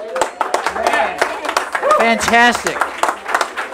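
Open mic audience at a coffeehouse clapping for a band's set, scattered claps and applause under someone speaking loudly close by.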